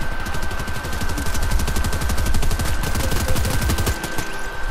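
Rapid pistol fire from computer-controlled characters in Fortnite, a dense run of sharp shots rattling off almost continuously at close range, loud and steady for several seconds with no talking.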